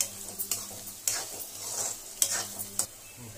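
Onions fry in a pan with a continuous soft sizzle, while a spoon stirs and scrapes, giving several sharp clicks and knocks against the metal.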